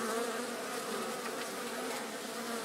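Honeybees in a horizontal hive give off a steady, dense buzzing drone, continuous and fairly close, with no voices or other sounds over it.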